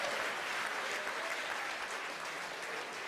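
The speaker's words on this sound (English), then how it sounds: "you hear the applause here from SpaceX headquarters in Hawthorne, California" Applause and cheering at SpaceX headquarters in Hawthorne, California during a Falcon 9 launch, a continuous, fairly distant and soft wash of clapping with no clear talk.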